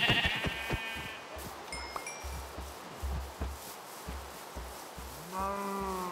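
Sheep bleat in Minecraft, a few short harmonic calls standing out over looping game background sounds, with a louder, longer bleat near the end.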